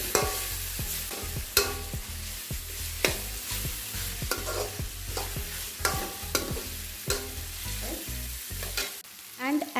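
Chowmein stirred and tossed in a hot pan with black pepper powder, Kolkata street style; steady sizzling frying under repeated scraping and clanking strokes of a utensil, close and fairly loud, with no talking.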